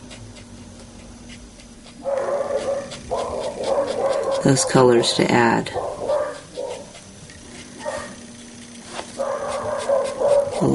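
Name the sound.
dogs barking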